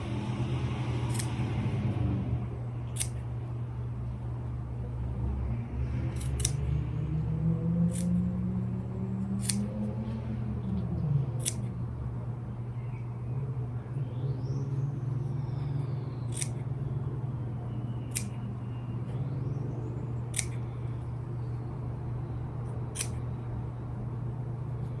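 Scissors snip the dog-ear corners off a quilt block, about a dozen short, sharp cuts spaced at irregular intervals over a steady low hum.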